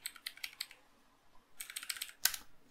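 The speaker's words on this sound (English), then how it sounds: "So when I press A on the keyboard" Rapid clicking of computer keyboard keys, close and crisp, in two quick clusters separated by a brief pause, ending with a sharper single press.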